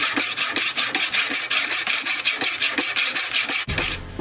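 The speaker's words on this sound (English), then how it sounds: "First time I've ever sharpened this knife, starting with a 400." A horseshoe knife is drawn repeatedly across a 400 grit sharpening stone, giving a loud, close, rhythmic rasping scrape about four strokes per second that stops near the end, with no talking.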